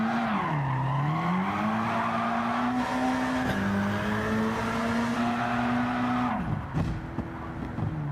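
Engine-swapped compact car in Gran Turismo 7 racing on a small course, the engine droning steadily and loud with pitch sweeping through gear changes and a brief dip near the end, no voices.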